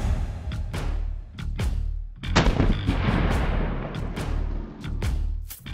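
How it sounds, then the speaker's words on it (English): Big rifle cartridge and pistol cartridge shots are fired in an outdoor penetration test, several sharp loud reports in quick succession, each followed by a booming echo, no voices. "The big rifle cartridge versus the pistol cartridge in a penetration test."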